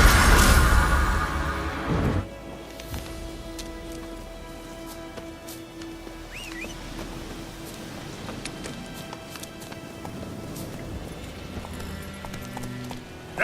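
Roach, the horse in The Witcher 3, gallops with rhythmic hoofbeats over a soft patter like rain, loud and busy for the first two seconds, then quieter and steadier for the rest.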